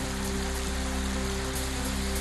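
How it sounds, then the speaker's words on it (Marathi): A dense, unbroken downpour of heavy rain driven by strong wind hisses steadily and close, with no voices. "जोरदार वाऱ्यासह मुसळधार पावसाची हजेरी।"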